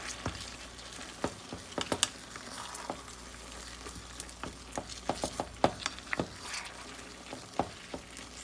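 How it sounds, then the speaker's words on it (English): Smoky apple jalapeño BBQ sauce with chopped tomatoes being stirred in a pot over medium heat, quiet sizzling with irregular scraping clicks and spoon taps scattered throughout, no voices. "Give that a nice stir."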